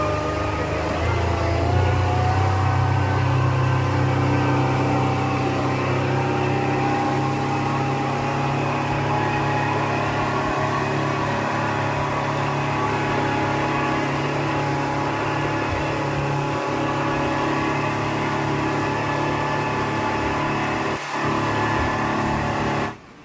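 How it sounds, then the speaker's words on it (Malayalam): A speedboat engine runs at speed on the water in Thailand, a steady loud drone with a deep low rumble holding almost unbroken for the whole stretch and cutting off abruptly at the end. "ഇപ്പോൾ വന്നതിനേക്കാൾ സ്പീഡിലാണ് വേറൊരു ബോട്ടിൽ നമ്മൾ കടന്നു പോകുന്നത്."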